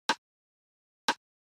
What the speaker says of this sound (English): Essentially, we have this rim shot